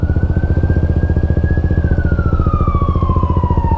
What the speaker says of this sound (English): Police car, ambulance.